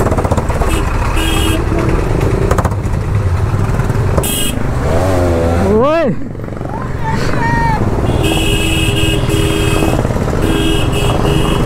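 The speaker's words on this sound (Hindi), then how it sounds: "क्या एग्जॉस्ट, फुल पावर भाई लोग, फुल पावर" Motorcycle exhaust revving hard in a traffic jam on a busy street, steady dense road noise with rising engine tones near the middle.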